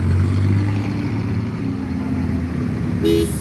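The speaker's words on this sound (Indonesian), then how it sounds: "Di sana terpantau ada truk 2 unit" Trucks and cars roll past on a busy road during the holiday homecoming exodus, a steady loud rumble capped by a brief horn toot near the end.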